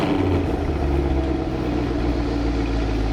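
A 2019 Chevrolet Camaro's 6.2-litre naturally aspirated LT1 direct-injection V8 petrol engine idles close by, a steady, loud, deep rumble with no voices over it.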